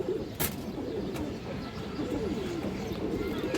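Pigeons of a good breeding line coo in low, soft repeated phrases, close by, over a constant background hum, with a couple of sharp clicks.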